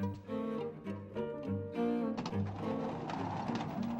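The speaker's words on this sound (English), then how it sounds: "Definitely heard a bird." Repeated cooing bird calls in the 1995 FMV video game Ripper, a series of soft, evenly spaced hoots, followed by a denser ambient wash.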